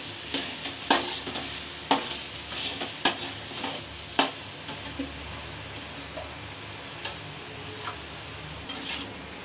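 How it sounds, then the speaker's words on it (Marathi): A spatula stirs and scrapes a potato filling for bread patties in a sizzling pan, with irregular knocks and clicks over a steady soft frying hiss, close and moderately quiet. "ही भाजी परतून घ्यायची सगळी"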